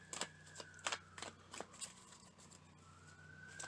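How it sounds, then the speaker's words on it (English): A faint wailing siren rises and falls in the distance on a country road, mixed with closer sharp rustling and tapping noises. "I am out on a country road and I'm hearing sirens out here."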